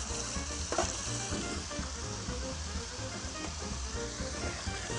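Meat browns in a pan for Italian chili, a steady, close sizzle and crackle with occasional stirring scrapes and no talk.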